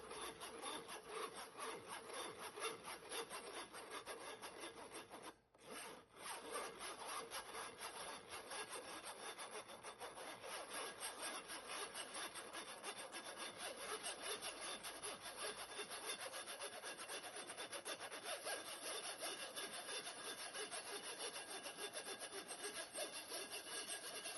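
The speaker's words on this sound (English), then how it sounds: "When you're sifting, you can push the ingredients through using a rubber spatula or a spoon, or you can tap the sides of it with your hands" Dry cookie bar ingredients being sifted for oatmeal chocolate chip cookie bars, a steady, close, continuous rasping scrape that runs nearly unbroken with one brief pause, no talking.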